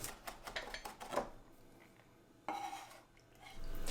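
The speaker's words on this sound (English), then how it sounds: "For the marinade, I'm going to start by finely chopping a shallot." A knife taps rapidly on a cutting board, finely chopping a shallot in quick bursts, pausing briefly before the chopping resumes, close and moderately quiet.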